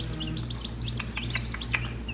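Little chicks in a brooder peep and chirp in short, high, scattered calls over a steady low hum, one call standing out louder near the end.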